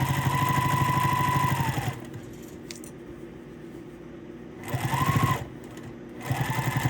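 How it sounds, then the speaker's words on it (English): A sewing machine runs in two bursts as it stitches a quilt binding strip, steady whirring stitches that stop, pause briefly, then resume, close and alone with no talking. "we're just going to start sewing and finishing off our binding strip"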